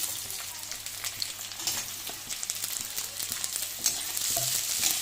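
Garlic, ginger and onions fry in hot oil for a gravy, giving a continuous loud sizzle with occasional stirring scrapes, close up and with no voices.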